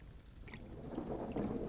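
Steady rain patters in Kerala under a soft, rolling rumble of thunder, heard faintly and continuously throughout a film scene.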